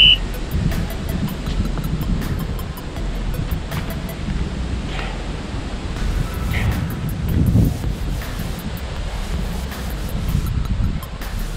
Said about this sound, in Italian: C'è il vento, c'è il vento.